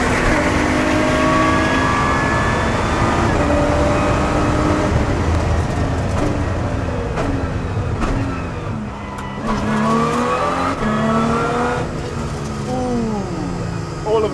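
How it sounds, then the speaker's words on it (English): A Lotus Exige V6 Cup race car's engine revs hard on a track, a loud continuous roar climbing and falling through gear changes, with tire noise and a voice faintly underneath. "Listen to that motor."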